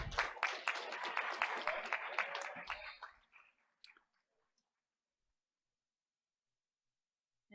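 Applause from the audience at a board of education meeting, a dense burst of clapping lasting about three seconds before it tapers off into near silence.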